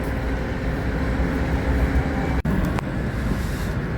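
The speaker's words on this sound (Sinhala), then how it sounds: "මේ අන්තිම පැත්තේ ඈත පේන ට්‍රේන් එකක් යනවා" A distant train rolls past Warsaw West bus station in Poland as a steady, low rumble with a faint metallic clack, far off and continuous under open-air ambience.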